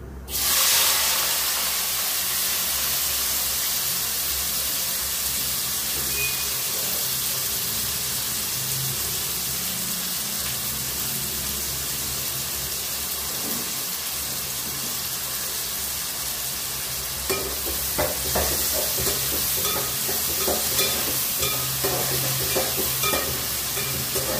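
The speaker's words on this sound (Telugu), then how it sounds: "ఈ టైంలో మనం కట్ చేసి పెట్టుకున్నాం కదా ఆనియన్స్, వేసుకున్నాం" Chopped onions sizzle and fry steadily in a hot pan for the whole stretch, with occasional stirring scrapes and louder crackling bursts near the end, no voices.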